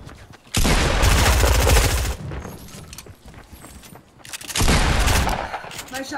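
Rapid bursts of gunfire from the video game Fortnite, two loud sustained volleys separated by a quieter gap, close and dense, with some voices faintly in the background.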